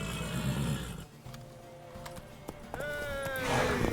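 A horse in The Witcher 3 gallops with rhythmic hoofbeats and gives a clear whinny near the end, mixed with other game sounds and faint voices.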